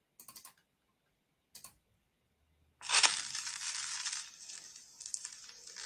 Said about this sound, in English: it's the needle going onto a record